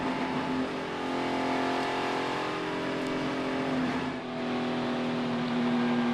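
NASCAR race car engines at the 2018 Daytona 500 produce a loud, steady roaring drone that barely changes over several seconds, with no talk heard over it.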